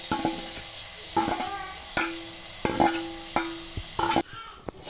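Onions and capsicum being sautéed in a pan for street-style masala Maggi, with a steady sizzle under repeated scraping and stirring strokes of a spoon against the pan, fairly close and clear, no talking.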